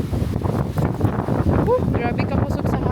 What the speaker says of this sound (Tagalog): grabe ka pusok sa hangin